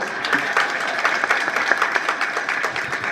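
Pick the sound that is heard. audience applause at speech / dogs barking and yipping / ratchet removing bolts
audience applause at speech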